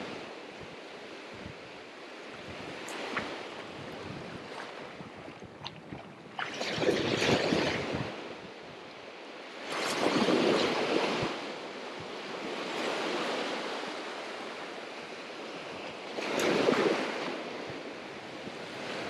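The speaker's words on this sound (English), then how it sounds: "That wind is probably horrible right now." Wind blows hard at a beach, gusting in long loud surges that roar over the background of surf, with no talk.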